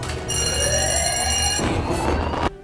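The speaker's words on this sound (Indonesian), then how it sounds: "ia pun keluar sambil menarik alarm peringatan" A loud alarm bell rings continuously right after an alarm is pulled, a harsh metallic ringing with a steady tone that shifts midway and cuts off sharply near the end.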